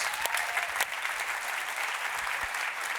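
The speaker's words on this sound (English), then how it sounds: "please give a huge round of applause for my colleague and friend, Megan Rose." Audience applause at a tennis association's annual meeting and conference, a dense wash of many hands clapping at a moderate distance with a few sharper claps standing out, steady for the whole stretch.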